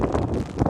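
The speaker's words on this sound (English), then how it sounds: "See, my umbrella is windy." Gusty wind buffeting an umbrella on a walk in windy, rainy weather, a close, rough rushing roar that swells and eases over a brief moment.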